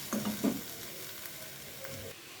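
Spices and chicken masala are stir-fried in a pan for a paneer curry, making a soft, steady sizzle with a few louder stirring scrapes at the start. It is close and fairly quiet, with no voices.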